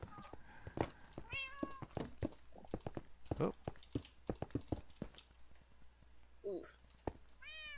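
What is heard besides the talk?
cat meowing in Minecraft video game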